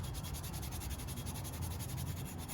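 A drywall sanding screen rubs across a plaster wall in a steady, continuous rasping scrape, close and fairly quiet, with no voices.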